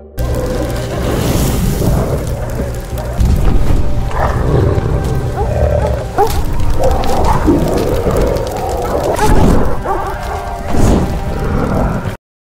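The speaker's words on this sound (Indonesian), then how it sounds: "terdengar kembali suara gonggongan dan segera itu membuatnya ketakutan" Harsh animal growls and snarling barks churn continuously over a loud, dense rumbling background, several animals close and aggressive.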